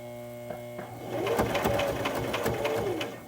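A sewing machine stitches the shoulder straps of a 1940s-style pinafore dress, whirring steadily and close by after a few soft clicks, with faint pigeon-like cooing in the background and no speech.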